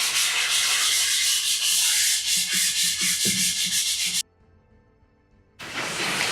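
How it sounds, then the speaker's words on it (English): A dry sponge rubs over a portrait drawing on paper in repeated close, hissing strokes, then stops briefly before the scrubbing resumes. "I use a dirty old dry sponge."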